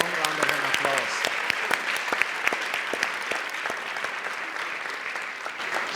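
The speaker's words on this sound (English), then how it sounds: "So let's give you a long round of applause." A large audience at a university high tea book discussion gives a long, steady round of applause, dense clapping filling the room with a few louder individual claps standing out.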